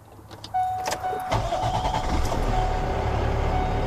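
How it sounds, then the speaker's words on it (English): An HSL20 truck's engine cranks and catches after a brief high warning beep, then settles into a steady, loud, close low rumble that builds slightly as it runs. "now I'm going to start the truck"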